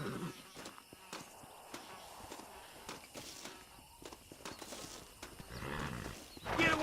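Horses in the Western video game Red Dead Redemption, with soft hoof steps and stirring amid steady ambient game sound, a louder swell near the end.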